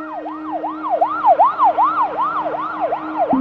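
An ambulance siren wails continuously, rising and falling in a fast repeating cycle, loud and close, cutting off abruptly at the end.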